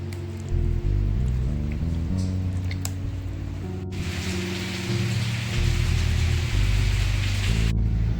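Rain falling and easing off, a broad steady hiss of drops that swells midway and then cuts away, heard beneath a loud low droning hum.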